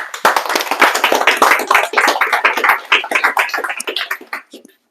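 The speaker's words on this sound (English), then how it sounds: "A big round of applause." A workshop audience at an aquascaping event gives a round of applause, loud close clapping from a small group in quick irregular bursts that tapers off and stops near the end.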